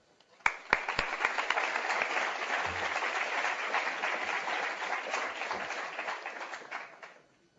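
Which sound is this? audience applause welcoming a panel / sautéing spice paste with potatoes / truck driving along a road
audience applause welcoming a panel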